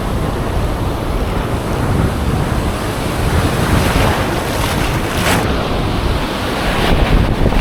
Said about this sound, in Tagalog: Ang lakas ng alon guys.